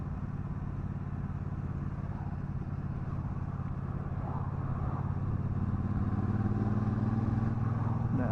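A Triumph Bobber Black 1200 motorcycle being ridden on back roads, its steady engine drone continuous and close throughout, with the pitch rising toward the end as it accelerates.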